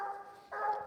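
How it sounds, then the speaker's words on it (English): A coonhound gives a drawn-out locate bark on a night coon hunt in Missouri. The howling bark is carried in two sustained phrases and sounds somewhat distant. "He made a long locate. It's a different bark than the other ones."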